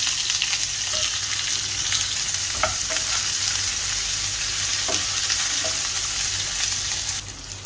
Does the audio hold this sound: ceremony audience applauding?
no